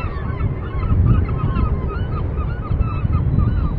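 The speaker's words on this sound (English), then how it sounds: "Can you hear all those seagulls? There's quite a little group of them over here." Seagulls call repeatedly in Portland Harbor, heard from a moored sailboat, their overlapping cries steady over wind and lapping water.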